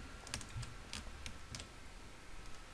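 Computer keyboard clacking while code is entered for a dynamic website, a handful of separate, sharp keystrokes spaced irregularly over a steady background hiss, close by and moderately loud.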